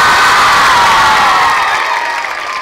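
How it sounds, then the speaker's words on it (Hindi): A crowd of children and adults at a girls' festival event in Rajatalab, Varanasi, cheering and shouting in a loud, sustained roar with clapping mixed in, fading slightly toward the end. "एक बार हल्ला करके इन लोगों के लिए ताली बजा दीजिए"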